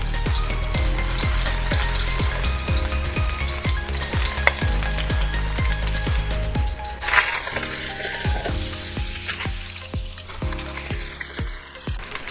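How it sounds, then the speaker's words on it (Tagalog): Garlic and onion sauté in a hot pan with a loud, steady sizzle that runs throughout, broken by a regular series of utensil scrapes and taps against the pan and a brief metallic clink midway; no one speaks. "magigisa na tayo guys ng bawang tsaka sibuyas"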